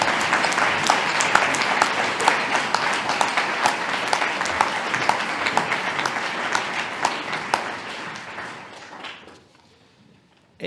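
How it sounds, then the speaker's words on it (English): An audience at a school speech night applauds brass players, a full sustained round of clapping from many hands that holds steady and then fades away to quiet near the end. "I think they deserve a round of applause, and I think the brass players do as well."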